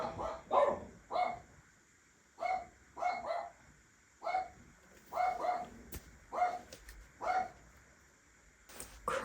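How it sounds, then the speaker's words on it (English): Dogs barking in repeated short bursts, a dozen or so sharp yelping barks spaced irregularly with quiet gaps between them, fairly close and distinct. "crazy dogs."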